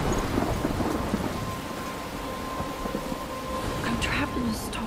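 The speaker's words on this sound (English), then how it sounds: "I'm trapped in a storm?" Thunderstorm with steady heavy rain hissing throughout and low thunder rumbles rolling underneath, a continuous dense wash of storm noise, with faint voices briefly audible near the end.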